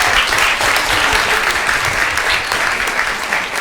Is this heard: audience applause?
yes